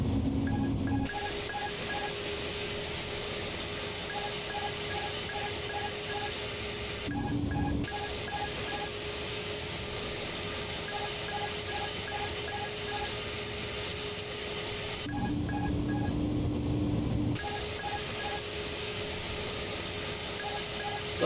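An Airbus A310-300 flight simulator cockpit with warning tones repeating steadily throughout, over a constant engine and cockpit hum, the beeping pattern shifting briefly a few times, continuous and fairly loud with no talk.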